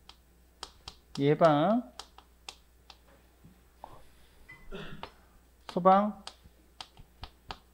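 A marker or chalk taps and scratches on a board in short, sharp strokes scattered through a lecture, with a voice speaking between and over the marks.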